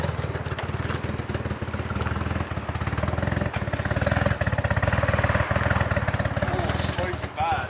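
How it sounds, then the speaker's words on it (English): A Nissan Silvia S14 engine idles lumpy and uneven with a rough, pulsing low rumble, close and steady, while people talk over it. "It's idling fucking proper lumpy."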